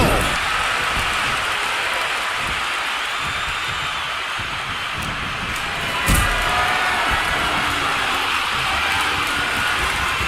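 Wrestling arena crowd in WWE 2K25 King of the Ring, a dense continuous roar of cheering that holds steady throughout, with a sharp slam-like thud near the middle.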